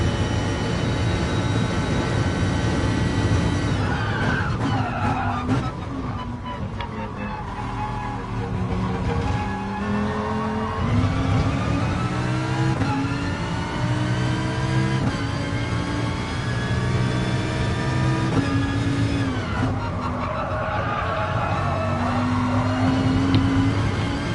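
A Lamborghini lapping a circuit, its engine droning loudly and continuously with pitch rising and falling through gear changes and corners, a close sustained in-car engine note throughout.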